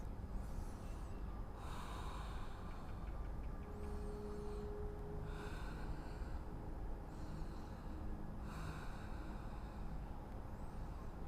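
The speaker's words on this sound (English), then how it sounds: "Ujjayi breathing here. Listen to the sound of your breath." Ujjayi breathing during a yoga session: slow, audible breaths through a constricted throat, rising and falling in a steady rhythm of about four long breaths over a constant low background hum.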